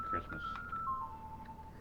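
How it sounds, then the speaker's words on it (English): A phone notification chime plays during a VR Chat stream: a short steady electronic tone that slides slightly lower partway through, with a voice in the background. "that is my phone notification"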